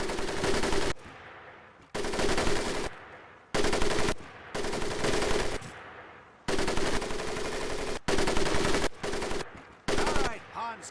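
Bursts of machine gun fire in Medal of Honor: Pacific Assault, loud and close, come in repeated rapid volleys separated by short pauses, with brief voices between some of them.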